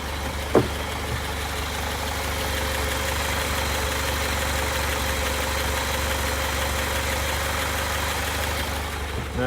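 A Scout 80 engine idles as it warms up, a steady low rumble with an even mechanical rhythm heard up close, with one brief clunk near the start and no talking.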